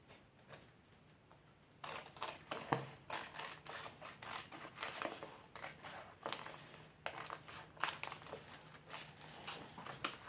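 Scissors snipping through paper card during handmade card crafting, a run of crisp, closely spaced cuts and rustling paper that begins after a quiet couple of seconds and continues steadily, near and moderately loud.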